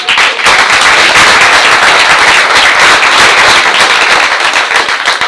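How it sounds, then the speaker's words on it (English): Board of education meeting audience applauding athletes, a loud, dense and sustained burst of clapping with no speech over it. "Please give them a round of applause."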